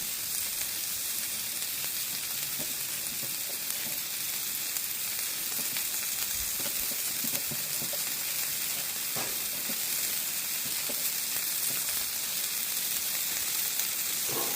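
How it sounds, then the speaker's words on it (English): Fried cheese sizzling steadily in a hot pan, a constant bright crackling hiss that holds at the same level throughout with occasional small pops and no talking. "Fried cheese action going right there"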